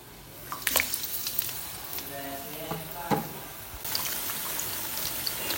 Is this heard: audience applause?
no